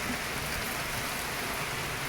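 Steady rain falls with dense, continuous pattering of raindrops on a surface, close and moderately loud throughout, with no voices.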